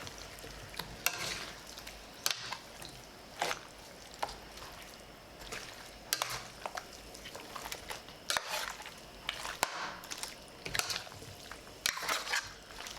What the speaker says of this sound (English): if you're looking on in disbelief at how much I'm stirring this fish